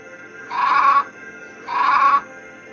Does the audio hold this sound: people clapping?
no